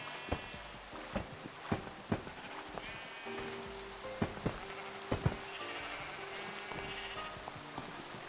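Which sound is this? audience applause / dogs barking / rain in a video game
rain in a video game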